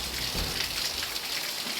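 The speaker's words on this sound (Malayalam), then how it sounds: "എന്താ കിടക്കുന്നു കൊടുക്കത്ത മഴ" Heavy rain pours down in a dense, even hiss that stays close and constant for a couple of seconds, with no voices.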